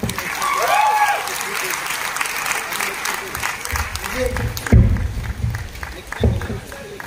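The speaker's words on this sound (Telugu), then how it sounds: "super super clap" An audience breaks into loud, sustained clapping after a business presentation in a hall, with a crowd murmur and voices mixed in as the applause rolls on and then thins.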